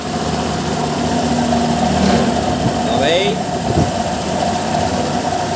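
A Honda Click 125 scooter engine with loose compression and a noisy valve lifter idles steadily and loudly nearby, with a busy mechanical ticking rattle running through it; a voice speaks briefly over the noise.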